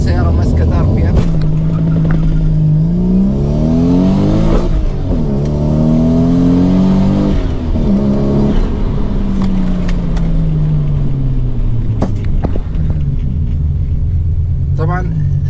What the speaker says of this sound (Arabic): فانا بفوت اول وبدعس فول ثروتل، السياره ماسكه ار بي ام